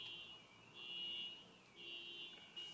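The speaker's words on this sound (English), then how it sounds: "car alarm's going off now" Car alarm going off at a distance outdoors, a faint high electronic tone repeating in long pulsing cycles, quiet and thin, with no speech over it.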